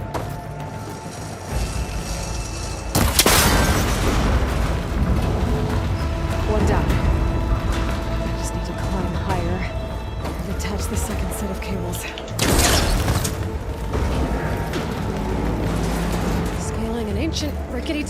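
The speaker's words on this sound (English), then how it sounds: "That connector's holding the cables together. It should break if I shoot it." In Horizon Forbidden West, a cable connector is shot and breaks apart, giving two sharp, loud impact bursts about ten seconds apart over a steady ambient game rumble, with a voice speaking throughout.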